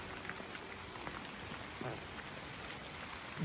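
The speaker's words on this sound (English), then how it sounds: "I've actually had to come out in the rain" Steady rain falls outdoors over a garden, a soft continuous patter of raindrops with occasional louder drips, faint voice traces barely emerging.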